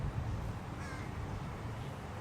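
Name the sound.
crow cawing at another crow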